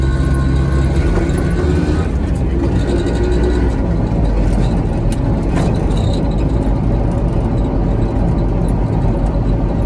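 Piaggio Ape 50 three-wheeler driving past a sports field, its small engine a loud, steady rattling drone from inside the cab, continuous for the whole stretch.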